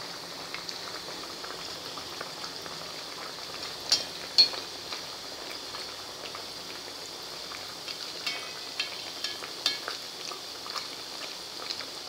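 Suran (elephant foot yam) vadas deep-frying in hot oil: a steady, fairly quiet hiss runs throughout, dotted with small crackles and a couple of sharper pops, and no one speaks.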